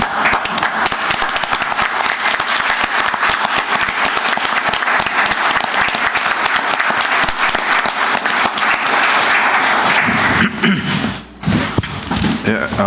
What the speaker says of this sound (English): stand up and give these guys a round of applause